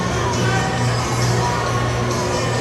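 An indoor ice hockey crowd at a Melbourne Ice versus Melbourne Mustangs game cheers and shouts in a dense, steady roar, with children's shouts mixed in throughout.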